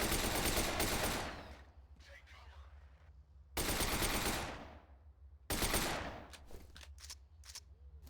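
Loud bursts of heavy automatic gunfire from the shooter game F.E.A.R., three long rapid-fire volleys each cut off abruptly, with reverberant tails and faint debris between them.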